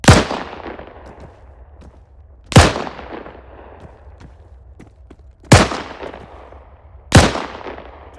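Gunfire in the IFA3 WarMod video game: four loud, sharp shots spaced a couple of seconds apart, each with a booming report and a long echoing decay, with a quiet pause between them.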